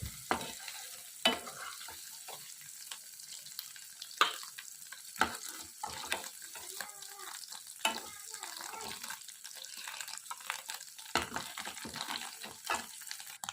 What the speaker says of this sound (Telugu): పన్నీర్ ఫ్రై అయిందండి.